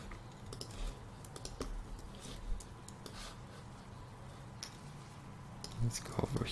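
Computer keyboard typed on while designing a pricing page in Figma, soft irregular key clicks and taps at close range over a faint background.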